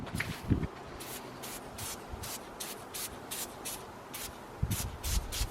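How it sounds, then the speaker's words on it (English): Repeated short hissing sprays of Easy-Off oven cleaner from a trigger bottle onto furniture, about a dozen bursts in an uneven rhythm, with faint rustling and handling sounds between them. "I'm going to spray that onto an area here"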